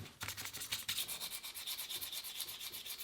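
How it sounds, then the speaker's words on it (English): Steady rhythmic rasping of sticky-back sandpaper rubbed by hand over a knife handle, close and continuous with even back-and-forth strokes and no talk. "Nothing better than sanding."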